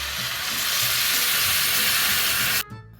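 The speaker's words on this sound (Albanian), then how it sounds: "Si kemi skuqur të gjitha, shtojmë ujë." Water poured into a hot pan of fried rice and beef for pilaf sets off a loud, close, roaring hiss that holds steady, then cuts off abruptly near the end.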